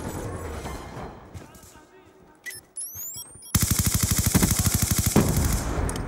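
Video game gunfire from a military shooter set in Yemen: after quieter effects and rising synthetic tones, loud rapid automatic bursts hammer out in a fast, even rhythm, with radio-style voices heard in the mix.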